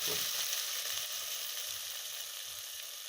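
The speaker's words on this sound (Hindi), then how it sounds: "अब इसमें 1 टीस्पून जो है वो ज़ीरा डालेंगे। इसको हम सही भूनेंगे" Cumin seeds sizzling in hot oil for a tadka poured over pakora kadhi, a close, continuous crackling fry that eases slightly in loudness, with no talk.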